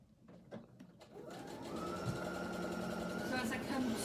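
Sewing machine stitching a shadow quilt block, starting after a few soft handling sounds and then running steadily at a close, moderate level.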